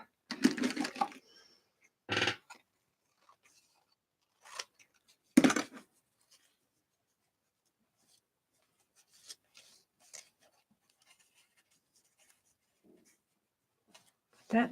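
Scissors snip through art material in a few separate short cuts spread across a quiet stretch, close and crisp, with a voice speaking briefly between the cuts.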